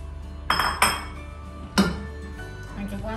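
Dishes and cutlery clinking in a home kitchen as they are dried by hand, with three sharp clattering knocks spaced over a few seconds against quiet room noise.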